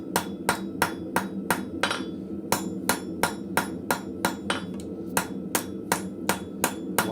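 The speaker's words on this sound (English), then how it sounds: "Come in and do my hammer marks on all 4 sides." A blacksmith's hammer strikes hot steel in a forge with steady, ringing blows about three per second. The blows are close and loud, pause briefly once, then resume the same even rhythm.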